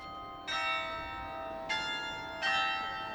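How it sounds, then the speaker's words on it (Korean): Bells of Passau town hall ring out in a carillon melody, three distinct bell strikes at a moderate distance, each leaving a bright, lingering ring, with no talk. "시민들에게 위험을 알리던 종소리가 아름다운 연주로 되살아나는 이곳에서"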